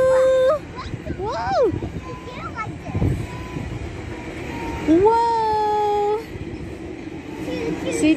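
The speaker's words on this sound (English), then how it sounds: "Look at the train! Choo choo!" A GO commuter train passes nearby, its horn sounding in rising tonal blasts amid rumbling rail noise, while an adult and someone talk excitedly over it.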